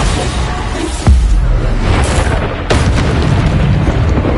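Bombarda spell explosions in the video game Hogwarts Legacy sound over a loud, dense combat mix. Two sharp booms land about 1.5 seconds apart.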